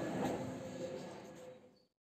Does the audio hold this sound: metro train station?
yes